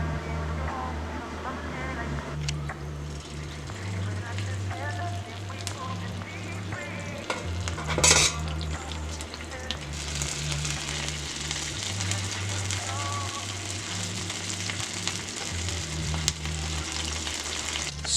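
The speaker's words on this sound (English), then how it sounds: "So this is the eel done pan frying" Monkeyface eel sizzling as it pan-fries in teriyaki sauce, a steady close crackle and hiss running the whole time over a low background hum, with a brief louder burst of spatter partway through.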